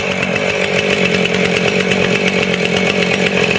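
Husqvarna 450 Rancher chainsaw cuts through a wet log at full throttle, a loud, close, continuous high-pitched buzzing roar with a steady rhythm throughout.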